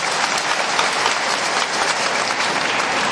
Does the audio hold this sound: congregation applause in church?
yes